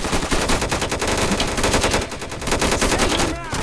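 Rapid automatic gunfire from a PayDay2-style mod in Minecraft, loud and dense bursts of shots rattling continuously with a brief pause near the end.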